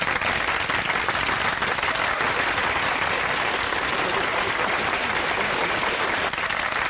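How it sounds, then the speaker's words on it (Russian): Studio audience applause on a 1961 television show, a thick, uniform wash of clapping that holds at a steady loud level for the whole stretch, almost rain-like in texture. "Ваши аплодисменты."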